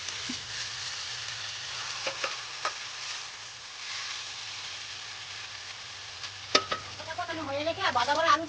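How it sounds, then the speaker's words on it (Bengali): Chicken meat sautés with onions in a pan, giving a continuous soft sizzle and a low hum. Near the end, several clattering stirs and scrapes come in. "এখন মাংসটা দিয়ে ভালো করে কষাবো ঢেকে ঢেকে।"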